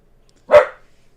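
A dog gives a single sharp bark, close and loud, in otherwise near silence.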